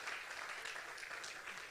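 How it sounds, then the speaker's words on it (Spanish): An audience at a church service applauds, a steady wash of clapping heard faint and distant, with no talk over it. "Dele ese aplauso al Dios que usted y yo reverenciamos"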